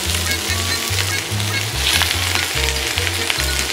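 Tofu added to oil-soaked Napa cabbage leaves fries loudly in a wok, a dense close sizzle with a regular low rumbling pulse underneath, and no one speaking.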